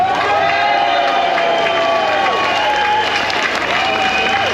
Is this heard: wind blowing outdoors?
no